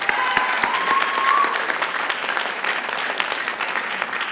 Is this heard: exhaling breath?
no